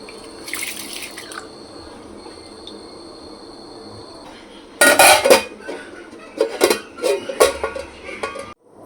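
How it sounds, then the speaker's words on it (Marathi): Soaked lentils being rinsed in a pot of water, with a faint trickle and sloshing early on, then a burst of louder splashing, clinking and scraping in irregular bursts toward the end. "2-3 पाण्याने धुवून काढायचे स्वच्छ."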